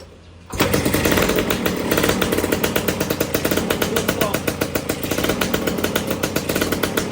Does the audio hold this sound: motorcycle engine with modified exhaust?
yes